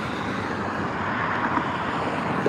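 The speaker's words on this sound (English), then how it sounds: "Another plane coming in." An airplane coming in to land at Las Vegas airport makes a broad, steady roar that sits close and loud throughout, blended with wind buffeting the microphone and no talking.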